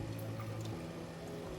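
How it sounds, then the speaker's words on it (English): Hot lemongrass sauce is poured over a steaming tilapia fish, a short, steady liquid pour heard up close, with no voices. "we're going to pour this over to the fish"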